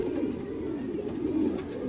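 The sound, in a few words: pigeon cooing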